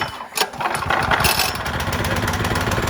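A 270cc go-kart engine being pull-started fires and catches after a sharp initial yank, then runs in a steady, loud, close, buzzy idle like a small lawn-mower motor, with no talk.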